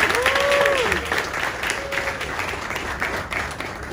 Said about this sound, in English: A round of applause for the Dodger Express.